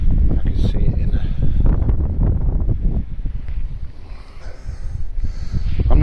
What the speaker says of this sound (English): I'm not sure how much of my audio you're catching in all this wind